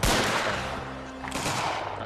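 A musket volley in a video game set in the Anglo-Zulu war, a loud blast right at the start decaying into rumbling echo, followed by a second softer burst of shots.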